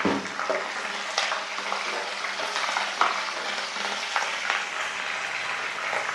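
Green chillies and curry leaves with broken dried red chillies fry in hot oil, a steady close sizzle and crackle with occasional louder pops, and no talking.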